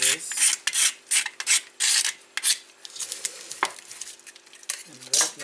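A blade or rasp cuts and trims the edge of a drum pad piece in a series of short, close scraping strokes, each rasp bursting and stopping in an uneven rhythm.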